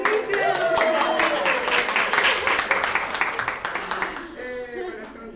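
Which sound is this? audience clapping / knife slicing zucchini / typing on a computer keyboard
audience clapping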